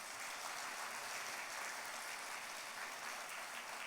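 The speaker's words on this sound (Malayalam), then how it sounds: "ഒന്ന് കൈയടിച്ച് കർത്താവിനെ മാത്രപ്പെടുത്തുക." A church congregation claps hands in praise during a prayer talk, a dense, continuous patter of many palms, fairly soft and steady throughout.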